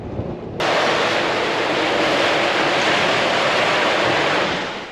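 Ocean waves rushing past a sailboat on the way to St. Barth, a broad continuous roar of water and wind that swells in quickly and stays loud and steady.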